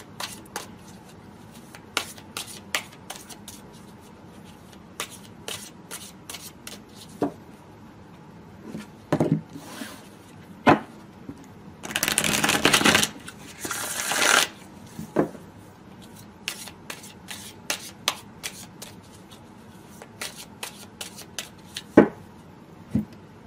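Tarot cards being shuffled and handled, with rapid riffling bursts between scattered crisp snaps and taps of cards, close and fairly quiet, and no talking.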